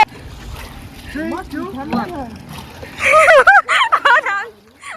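Water splashes as a person dunks in the cold Ganges river, with sloshing and splatter close by under excited talking and laughter, growing louder toward the end.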